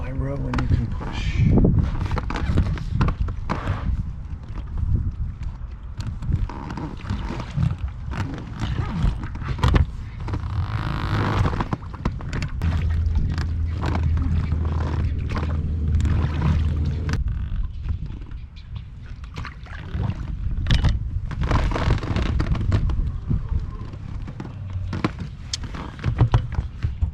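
A dinghy being rowed with oars on the water, with irregular splashes and knocks of the oars amid wind and water noise, close by, as a person speaks between strokes.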